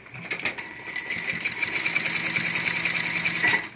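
A sewing machine stitches along a folded fabric edge with the presser foot guiding it, a fast steady mechanical whirr that runs continuously after a brief start, close and clear with no voices.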